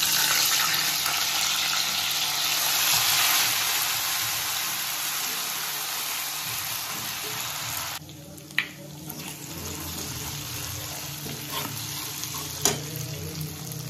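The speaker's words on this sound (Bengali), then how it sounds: "তেল গরম হয়ে গেছে। এর মধ্যে গোটা জিরে আর গরম মশলা আমি ফোড়ন দিয়ে দিলাম।" Ginger paste frying in hot oil with whole cumin and garam masala, a loud, steady sizzle that drops to a quieter crackle partway through, with a few clinks of stirring.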